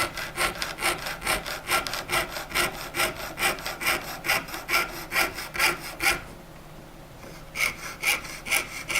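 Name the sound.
jewelry saw cutting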